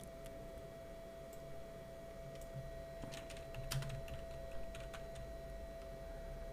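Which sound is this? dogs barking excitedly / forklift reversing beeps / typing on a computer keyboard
typing on a computer keyboard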